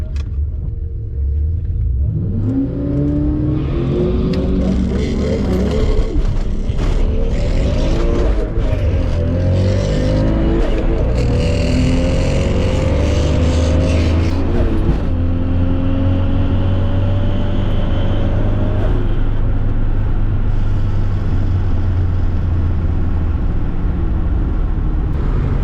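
A Toyota Supra on a drag strip roars through a launch and climbing gear pulls, a loud, close engine rising in pitch in several steps before settling into a sustained drone, with no talking.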